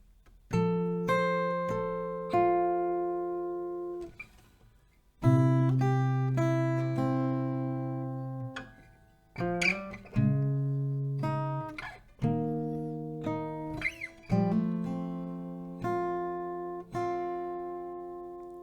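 Acoustic guitar picks out a slow, plucked melody, single notes and chords ringing and decaying, with a short pause before the phrase resumes.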